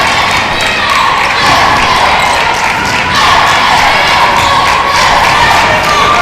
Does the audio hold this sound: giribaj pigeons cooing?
no